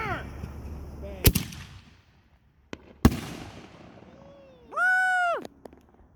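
Fireworks launched from a tube after a lit fuse: two sharp, loud explosive bangs a couple of seconds apart, followed by a brief bright whistling tone.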